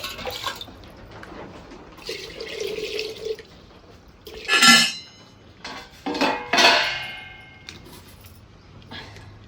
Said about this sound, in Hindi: यहाँ पर दाल धुल रहे हैं, अरहर की दाल बनाएँगे